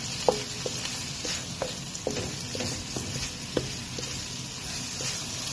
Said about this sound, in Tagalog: Igisa lang natin halo din sa mga carrots, tomatoes, onions, yan.